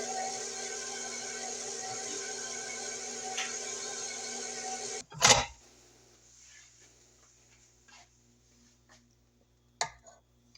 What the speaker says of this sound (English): I'm going to mix that first gear until I combine.